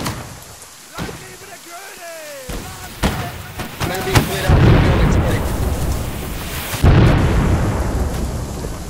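Rockets land and explode nearby in the video game Holdfast, with heavy rumbling blasts and crackling debris that build into a loud, continuous barrage while a player talks over the chaos.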